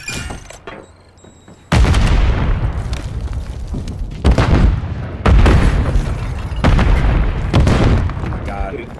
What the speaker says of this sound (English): So many nades.